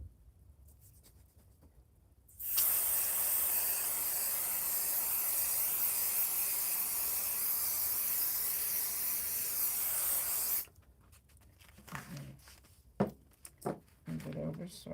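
A steady, loud spray of aerosol adhesive hisses continuously for about eight seconds, then stops, followed by light handling and tapping noises.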